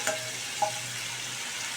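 Fried potato pieces go into a spice mixture frying in a pan for a rui fish curry, producing a faint, steady sizzle with a couple of brief stirring clicks near the start; no speech.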